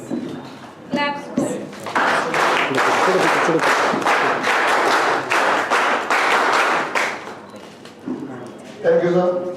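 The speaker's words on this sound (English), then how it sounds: "Claps." An audience at a scout and guide event in Nashik, India claps together in a sustained burst of applause lasting several seconds, with a voice speaking over a microphone before and after.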